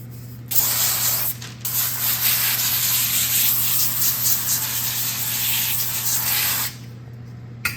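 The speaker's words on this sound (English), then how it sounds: "I'm going to spray that with some avocado oil spray." Steady avocado oil cooking spray hissing from an aerosol can for about six seconds, close and continuous, with brief pauses at the start and a low background hum throughout.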